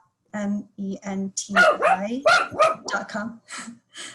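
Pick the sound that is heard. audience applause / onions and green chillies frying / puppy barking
puppy barking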